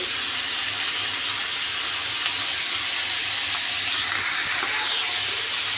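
Chopped green tomato pieces fry in a pan, a steady close sizzle and hiss that holds evenly throughout with no voices.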